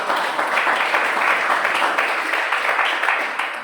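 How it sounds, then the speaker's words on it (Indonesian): Classroom students clap for a fellow student group during an innovative teaching practice lesson, giving a brisk, close, evenly sustained round of hand claps lasting several seconds without speech. "berikan tepuk tangan untuk kelompok 3"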